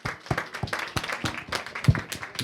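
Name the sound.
round of applause from audience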